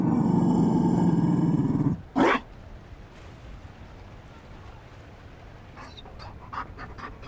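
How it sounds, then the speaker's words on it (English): A Mabari war dog in the video game Dragon Age pants loudly and steadily, up close, for a couple of seconds, then breaks into a short growl, followed by quiet background ambience with faint clicks. "You found a dog?"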